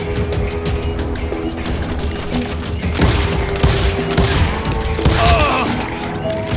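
Dense, sustained gunfire in the Western shooter Call of Juarez Gunslinger, with loud overlapping shots and booming impacts ringing out throughout amid battle noise.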